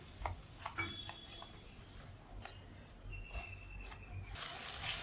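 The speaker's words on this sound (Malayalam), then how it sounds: "അതും കൂടെ ചേർത്ത് നന്നായിട്ട് ഇളക്കാം" Blended tomato puree is stirred into masala in a pan while cooking a cauliflower curry, with soft sizzling under repeated spoon clicks and scrapes against the pan, close and fairly quiet.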